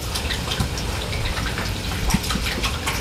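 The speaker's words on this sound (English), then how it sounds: "we've got our container pond about half full with water now" Water gushes steadily into a stock tank container pond being filled, a continuous close rushing and splashing with no voices.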